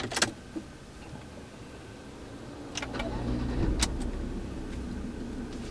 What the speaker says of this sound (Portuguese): vamos dar a partida no carro.